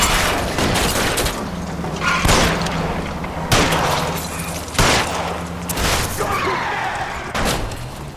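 Gunfire at a fleeing car's tires during a road chase in the video game LA Noire on PS5, several loud, sharp broadband shots spaced a second or so apart over a steady engine drone, with a few bursts in quick succession.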